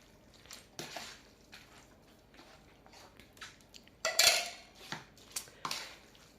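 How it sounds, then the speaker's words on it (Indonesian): Raw beef is mixed and kneaded with spices for Madurese-style beef jerky, with soft squishing, scraping and clinking against a bowl, irregular and close, a few louder knocks near the end. "bumbu dan dagingnya kita aduk-aduk ya, diuleni, diempleng-empleng sampai merata"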